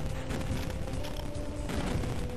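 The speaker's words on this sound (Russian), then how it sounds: "хватит взрываться" Dense, continuous barrage of game explosions and gunfire from Duke Nukem 3D, loud and unbroken with no pauses, rumbling low underneath for the whole stretch.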